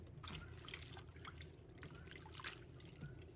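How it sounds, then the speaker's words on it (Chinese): Water spinach being washed in lightly salted water in a basin, with steady close sloshing and trickling water throughout, broken by brief splashes as the stems are moved about. "用淡盐水来清洗空心菜"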